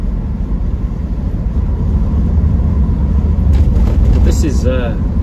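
A Triumph Stag car drives over the North Yorkshire moors, a deep continuous cabin rumble heard from inside while occupants chat over it.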